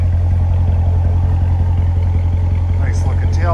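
Exhaust note of a 2017 Chevrolet Corvette convertible 3LT set to track mode, a steady low idle rumble heard up close and loud, with a few brief clattering sounds near the end.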